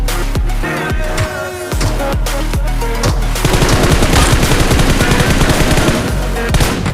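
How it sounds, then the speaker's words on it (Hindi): Rapid Uzi fire in a battle royale video game, loud close bursts of quick sharp shots rattling in fast succession and growing denser toward the end. "तभी सामने से उजी की भी फायर आ चुकी थी"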